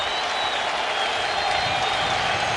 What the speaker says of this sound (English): Now the big crowd rising here at Shea.